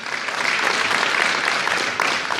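Steady, dense clapping from an indoor audience at a jubilee celebration in a community cultural centre in Lubań, a full hall applauding continuously at even loudness.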